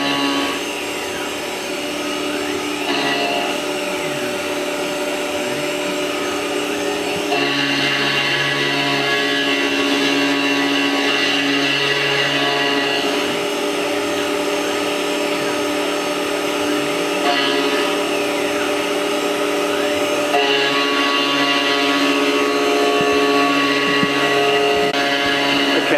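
A Tormach CNC mill with coolant running cuts a part, giving a loud steady machine whine and hum with shifting tones as the cutter moves through the work, no speech.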